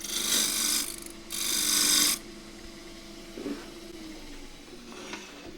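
A woodturning tool scrapes and rasps across the outside of a turned wooden pagoda box on the lathe, two loud rough bursts up front, then quieter intermittent scraping.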